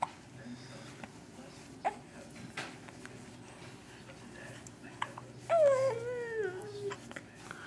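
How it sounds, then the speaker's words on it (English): A baby hiccups faintly a couple of times, short soft catches spread over several seconds in a quiet room, followed by a brief whiny vocal sound. "You got the hiccups."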